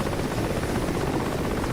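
Steady, loud helicopter rotor and engine drone from a chopper in the DCS flight simulator game, a continuous dense roar with no talking over it.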